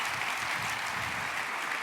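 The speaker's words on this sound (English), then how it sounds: "Can I get the applause you need?" Steady audience applause filling a large hall at a CES keynote, dense and even from start to finish without talk.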